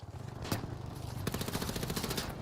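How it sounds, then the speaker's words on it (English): Video game combat: a sharp bang from a thrown flashbang grenade goes off, then a rapid rattling run of gunfire follows, loud and dense over a steady game rumble. "Throwing a flashbang."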